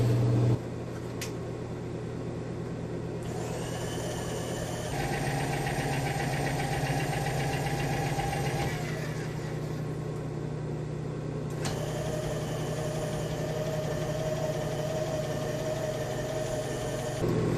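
A power feed motor drives the heavy Z axis of an XLO Excello milling machine, giving a steady electric hum and whine that shifts in tone a few times as it runs, with no talking.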